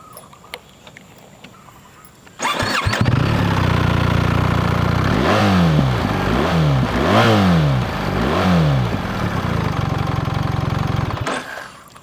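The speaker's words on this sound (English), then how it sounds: "is the most powerful Boxer engine ever produced by BMW" A BMW R1300GS adventure motorcycle's 1300cc Boxer twin with a 360-degree firing order fires up and settles into a smooth, loud idle, then revs four times in rising-and-falling swells before the engine cuts off.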